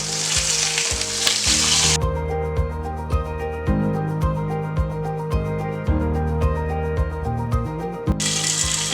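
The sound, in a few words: fish frying in oil after being flipped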